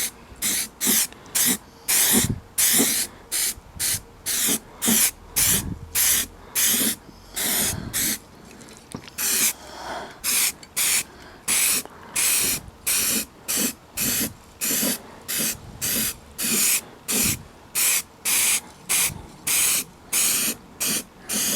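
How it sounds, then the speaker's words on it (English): Spray paint hisses from an aerosol can onto a garden incinerator in steady short bursts, each blast sharp and close, with brief pauses between strokes and no voices. "If you're bored of watching me spray, just skip ahead a bit."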